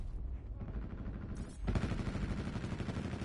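Rapid automatic gunfire hammers at a barricade in Call of Duty: Black Ops 4, with a sustained run of quick shots that grows louder after a short lull.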